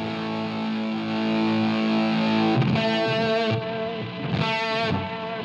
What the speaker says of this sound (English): I'm getting more distortion out of the amp.